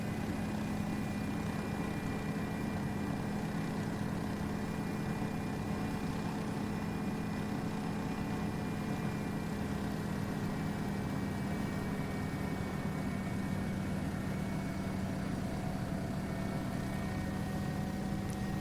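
Turbine engine of a Bell 407 helicopter in the X-Plane 12 flight simulator, a steady, loud, continuous drone with a low hum and faint high whine, unchanging throughout with no talk.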